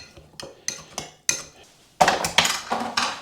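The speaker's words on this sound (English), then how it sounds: "You're going to scoop out probably about a cup, and you want to mash those up." Baked beans being mashed in a dish with a utensil. Sharp metal clinks and scrapes come in uneven bursts, sparse at first and then faster and louder near the end, with no talking.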